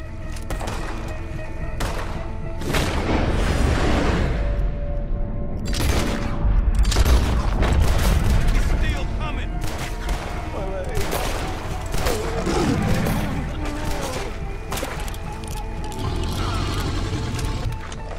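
In Red Dead Redemption 2, gunfire is aimed at an alligator in dark water: repeated sharp shots and booms burst over a tense game scene, with voices speaking between them.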